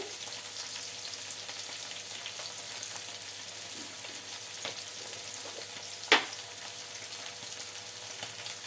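Chukka kura (sorrel leaves) frying with dried shrimp and onions in a pan, a steady soft sizzle throughout with a brief louder crackle midway, no talking.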